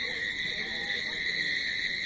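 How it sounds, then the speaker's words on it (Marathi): Crickets trill steadily at night, a continuous high, shrill chorus with no pauses, moderately close. "किती रातकिडे ओरडत होते इथं किती किर किर करत होते"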